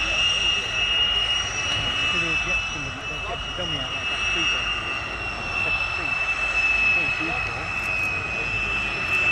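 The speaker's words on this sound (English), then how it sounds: "this is an interesting aircraft" An aircraft, likely a fixed-wing plane, flying by with a steady, loud engine roar that holds throughout, with a high whine over a broad rumbling wash.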